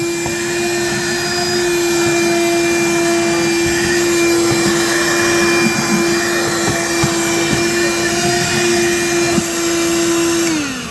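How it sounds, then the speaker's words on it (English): A steady, loud vacuum cleaner sucking up fine stainless steel shavings on a sailboat bimini roars continuously with a strong droning hum, running close by for the whole stretch before winding down at the end. "So after every hole, we try and vacuum them up."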